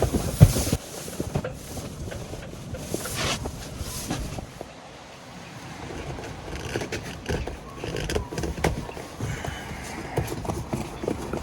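Strong wind gusts buffet a moored boat, with rumbling bursts, rattling and knocking from the deck and fittings, loud and uneven, briefly easing midway.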